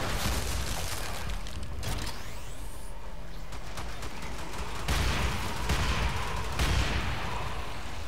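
Kulstar launcher firing in the video game Warframe, a run of heavy blasts and booms over constant dense battle noise, loud and close, with no voices.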